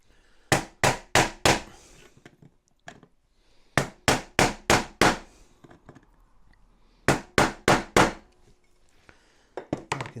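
A flat aluminium bar worked along a metal edge on an Armortek 1/6 scale SdKfz 7 halftrack model, heard as close, loud, sharp hammering blows in quick bursts of four or five, with short pauses between groups.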